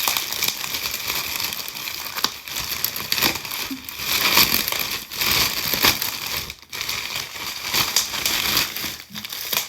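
Delivered package being opened and unwrapped, with close, continuous crinkling and rustling of plastic and paper in irregular bursts, no talking.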